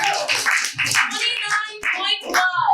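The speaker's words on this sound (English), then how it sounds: "keep your hands clapping as you welcome the last poet in the last round" Audience applause fills the room at a youth poetry slam, steady and dense, with some crowd cheering and voices mixed in.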